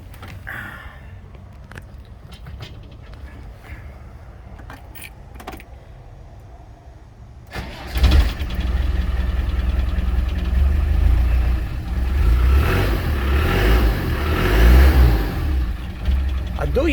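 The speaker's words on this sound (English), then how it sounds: "Let's go ahead and start this car." A Land Rover Defender 110 Classic starts up after some quiet handling noises and clicks; the engine cranks, catches with a loud burst and settles into a steady, rumbling idle with a slight rev near the end.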